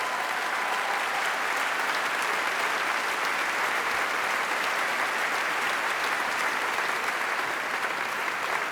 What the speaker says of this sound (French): Et on va applaudir très fort